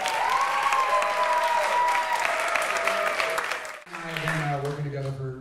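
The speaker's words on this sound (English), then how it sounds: "what about a round of applause for all the great musicians you've heard tonight" An audience at a senior jazz recital breaks into sustained applause and cheering, which fades out as instruments begin a held chord.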